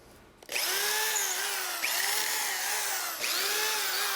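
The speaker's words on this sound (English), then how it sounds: "So I'm going to drill the 3 holes." A power drill whines steadily at close range, its pitch dipping briefly twice as it bores holes through half-inch-thick oak.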